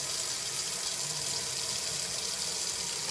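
Lukewarm water runs from a tap into a basin being filled to wash a synthetic wig. It makes a steady, even hiss and splash that continues unbroken for several seconds with no talking.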